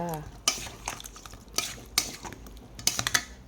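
Prepared ingredients for a spicy Thai mixed salad with fish balls, hot dogs and crab sticks being tossed in a bowl, giving several sharp utensil clinks and scraping strokes at uneven intervals, close up, without speech.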